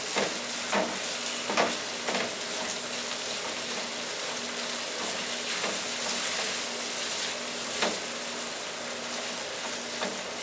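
Garlic and food seasoned with paprika sizzle steadily in a frying pan, a dense crackling hiss broken by occasional scraping stirs, close up and with no talk.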